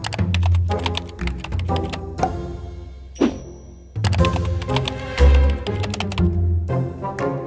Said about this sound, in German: Sascha, schreib mal da rein.